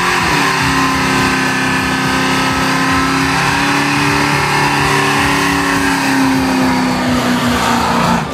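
A custom car at the 2013 Autorama car show revs its engine hard, a loud, sustained mid-pitched roar with gently shifting pitch, close up with no talk over it.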